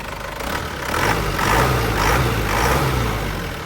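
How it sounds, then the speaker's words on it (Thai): A 1999 Isuzu Dragon Eye cab pickup with a 2.5-litre diesel engine is revved up from idle, rising into a loud rough roar that holds and then eases back down, close by and without talk. "เดี๋ยวเร่งเครื่องให้ดู"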